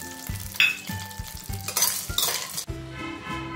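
Edible gum frying in ghee in a hot wok, with sizzling bursts and metallic clinks of a spatula stirring, moderately close with uneven stirring sounds.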